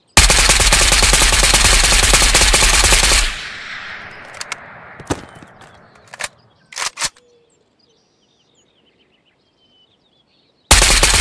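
Automatic gunfire from a rifle fitted with a Shift Grip in the VR shooter Ghost of Tabor, a loud dense burst lasting about three seconds, then a fading echo, a few scattered single shots and near silence before another loud burst.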